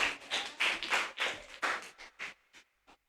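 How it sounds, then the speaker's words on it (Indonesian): Elementary school pupils in a classroom clap hands in a group burst of rhythmic claps that come in clusters, close and crisp, then thin out to a few scattered final claps. "Tepuk tangan untuk kelompok"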